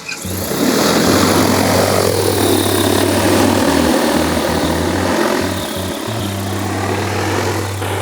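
DJI Agras T100 agricultural drone flying nearby, a loud continuous roaring buzz of rotors with a steady low hum that shifts slightly as it maneuvers, filling the whole stretch without talk.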